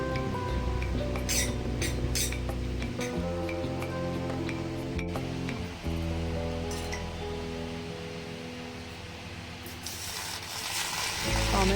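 Tomato pieces fry in a kadhai with green chillies, a steady sizzle running throughout, punctuated by metallic clinks and scraping of a spatula against the pan.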